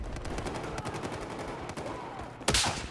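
Distant gunfire rattles in a Battlefield 4 match, then one sharp, louder sniper rifle shot cracks out near the end.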